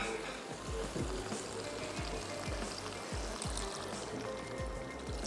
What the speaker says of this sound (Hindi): मेरे पास पानी, मैं पानी ऐड कर देती हूँ।